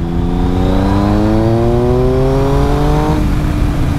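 A Triumph Speed Triple 1050 S with a GPR Furore Nero 4 lowboy exhaust revs hard with a loud, throaty sound, pitch climbing steadily for about three seconds before dropping off at a quick-shifter gear change.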